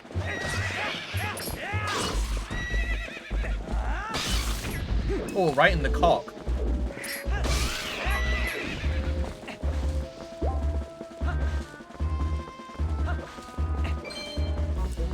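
Horse neighing and clip-clop hooves from the video game Twilight Princess, sounding repeatedly over a steady thumping musical beat and game effects, with people talking over it.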